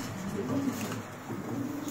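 A champion racing pigeon coos in low soft throaty calls close by, with a breathy steady background and no voices.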